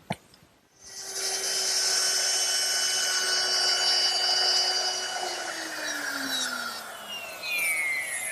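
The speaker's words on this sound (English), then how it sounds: "I'm going to start with a 3/8 inch straight bit set up in my router" A router fitted with a 3/8 inch straight bit cuts a straight groove in wood for a chest on chest, a loud steady high whine with a falling pitch near the end, and no talk.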